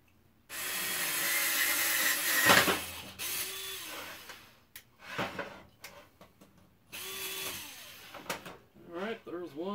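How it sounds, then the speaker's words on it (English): A power drill bores a hole through a clamped bracket for a follow-me robot build, whirring loudly and steadily for several seconds near the microphone, then short bursts with pauses, with speech in between. "And we'll just drill it out."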